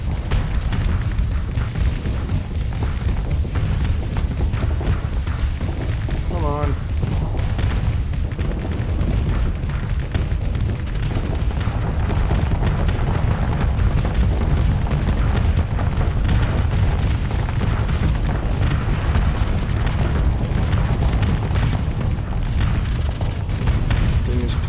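Missiles strike a space station in the game Starsector as loud, continuous rumbling booms and explosions with mechanical clatter, heavy and sustained throughout.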